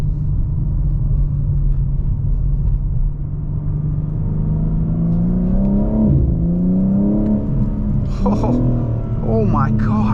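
A 2022 BMW M4 Competition coupe engine rumbling under load, then blipping and revving as the transmission downshifts, with rising and falling engine tones near the end and someone speaking over it.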